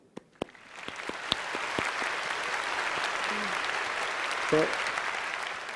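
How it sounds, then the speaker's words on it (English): Sustained audience clapping for the panelists at an international carbon trade seminar, swelling after a brief spoken word and a few scattered claps at the start, then holding steady and full to the end. "I would like to invite our audience for virtual applause our panelists."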